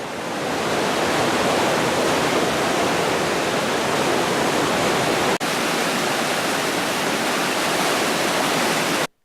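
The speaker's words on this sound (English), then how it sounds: "Also, the flume is pretty loud," Rushing water fills the narrow granite Flume Gorge near Lincoln, New Hampshire, a constant, loud, broadband roar that stays steady throughout, with no voices over it.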